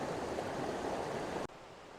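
The Little River at Elkmont in the Smoky Mountains rushes steadily over rocks, a close, dense broadband wash that cuts abruptly to a quieter flow near the end.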